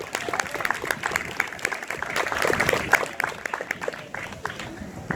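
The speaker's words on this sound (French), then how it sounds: "on peut les applaudir" An audience applauds guests who have travelled far to attend an event: a dense, sustained wash of clapping from a crowd that swells toward the middle, with voices mixed in underneath.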